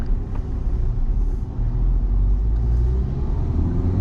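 A car travels along the road between Visakhapatnam and Kakinada, its steady low engine and tyre rumble heard from inside the cabin, continuous and fairly loud with no talk.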